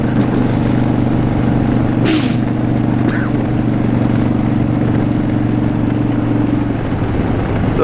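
Harley-Davidson Sportster 72 (XL1200V) motorcycle with a louder exhaust, its engine rumbling steadily and close throughout, with a couple of brief higher-pitched noises passing over the low drone.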